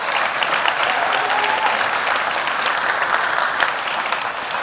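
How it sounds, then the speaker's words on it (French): A conference audience at a retail technology event applauds a display of robots, with steady, loud, dense clapping from a large crowd filling the room throughout and a faint voice briefly audible above it. "applaudissez-les."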